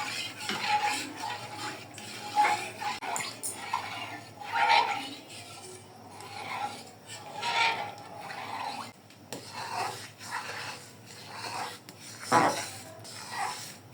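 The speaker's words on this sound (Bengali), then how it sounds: "বলক আসা আগ পর্যন্ত এটা নাড়া বন্ধ করা যাবে না, তাহলে কর্নফ্লাওয়ারগুলো দানা দানা হয়ে জমে যাবে" Thai soup thickened with cornflour is stirred steadily in a pot, soft swishing and scraping strokes in a slow rhythm with occasional light clinks of the spoon, close but fairly quiet.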